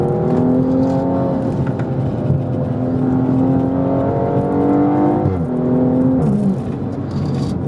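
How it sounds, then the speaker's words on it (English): BMW M235i driving the Ortega Highway canyon road between San Clemente and Lake Elsinore, its engine droning loud and steady from inside, with rising harmonics as it pulls through the gears and a brief shift near the end. "I just wanted to demonstrate some of the capabilities of the M235 in the canyons"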